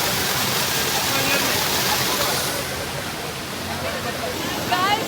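Kallathigiri waterfall in Chikkamagaluru roars as a loud, dense, continuous wash of rushing water, steady throughout with no clear breaks.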